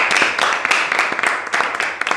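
Applause for a racing champion after a fourth win in five races, a brief burst of rapid, dense clapping from a small group, steady and close without voices.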